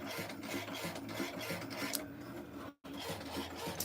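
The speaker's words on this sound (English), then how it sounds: "that's how the machine is cutting right now" A craft cutting machine works steadily through a cut with a continuous mechanical whirring and rasping, like a small printer. A brief silent gap interrupts it before it carries on.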